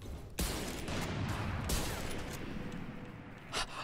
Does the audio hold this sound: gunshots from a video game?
yes